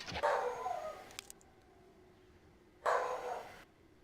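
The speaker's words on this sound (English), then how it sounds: "this dog." Two bursts of dog barking from a dog nearby, each lasting close to a second, separated by a quiet stretch with a couple of faint clicks.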